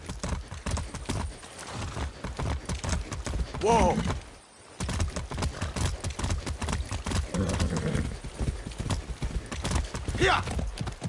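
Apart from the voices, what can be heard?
horse hooves in video game Far Cry 6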